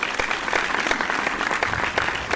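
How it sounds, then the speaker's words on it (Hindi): Dense, steady audience applause welcoming a speaker, a continuous wash of many hands clapping without pause. "आहा बजाओ मिलकर ताली"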